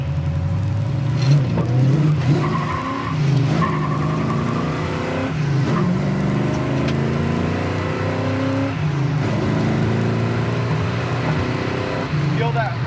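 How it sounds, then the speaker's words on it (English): A 1968 Chevrolet Camaro RS cruising at about 60 mph in fifth gear, with a steady, loud engine drone and road roar heard from inside the car while people talk over it. "Going down the road 60 mile an hour in fifth gear right now."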